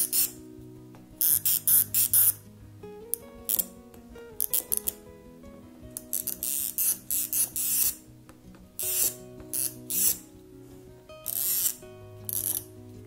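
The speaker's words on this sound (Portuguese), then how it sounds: "e vou riscar com o meu giz" Tailor's chalk marking fabric for a sewn box-style cosmetic bag, short scratchy rubbing strokes in quick bursts, close up, over a soft steady musical background.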